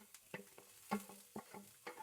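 Vegetables stir-fried together in a pan, a quiet run of uneven spatula clacks and scrapes against the metal, roughly every quarter second, with little sizzle beneath.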